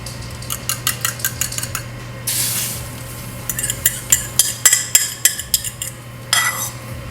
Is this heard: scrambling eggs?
yes